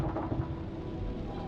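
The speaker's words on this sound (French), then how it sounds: "L'orage est à 8 bornes." Distant thunder from the horror video game Man of Medan rolls as a low, faint, continuous rumble for a brief moment, with no voices over it.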